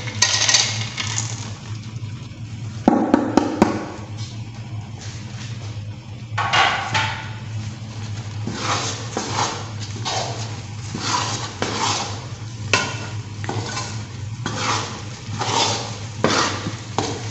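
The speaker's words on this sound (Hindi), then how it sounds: "अब हम इसके अंदर ये मेवा जात डाल देंगे" Dry fruits drop into besan halwa in a kadhai, rattling and clinking against the metal pan in scattered bursts, followed by repeated scraping strokes as the mixture is stirred, close and fairly loud.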